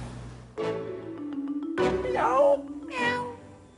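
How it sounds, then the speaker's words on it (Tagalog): A cat meows several times in close succession, each call rising and falling, loud and near, with quiet gaps between them and no talking. "Pusa lang pala."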